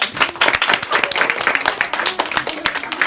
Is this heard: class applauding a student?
yes